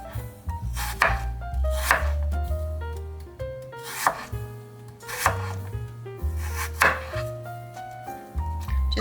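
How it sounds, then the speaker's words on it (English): Rapid rhythmic knife chops slicing apples into thin slices on a cutting board for an apple pie, a dozen or more crisp close taps in quick succession with no talking. "I'm going to want to cut these apples into very thin slices."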